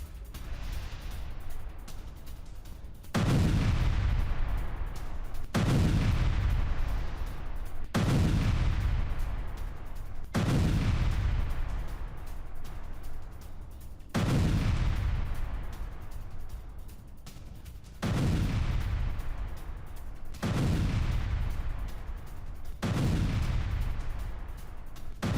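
A Russian T-72 tank is destroyed by a Ukrainian mine, and about nine loud, heavy blasts follow one another every two to three seconds, each with a deep rumble that fades out.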